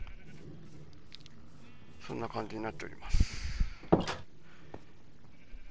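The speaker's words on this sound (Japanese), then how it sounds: "その像の下にはこのように羊さんがいっぱい並んでおります" Sheep in Minecraft bleat in a short series of wavering calls partway through, mixed with clicks and other game sounds while someone speaks Japanese.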